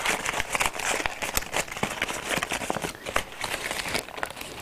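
Crumpled paper is pulled open and flattened for a watershed erosion model, giving continuous close crinkling and crackling with sharp rustling bursts throughout and no voices.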